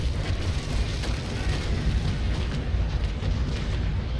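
Cannon broadside from a sailing warship in the naval game Naval Action, Surprise against Renommee, heard as a dense, continuous rolling rumble of heavy booms that fills the whole stretch without pause.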